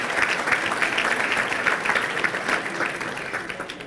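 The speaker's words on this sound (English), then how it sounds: "a round of applause for the mashup" A crowd claps for the mashup at the 2018 mayor's State of the City address, a brief, even round of applause that fades slightly toward the end, with no speech.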